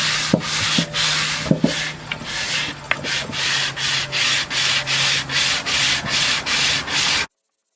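Sandpaper rubs back and forth over a wooden bowl being restored, a steady series of even strokes up close, loud and rhythmic with no voices, ending abruptly.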